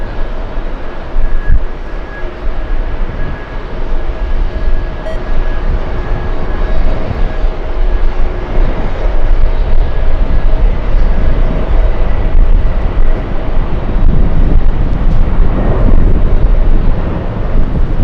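An Etihad airliner taxis at JFK airport, its engines giving a loud steady rumbling roar with a thin whine that fades partway through, the roar swelling slightly toward the end.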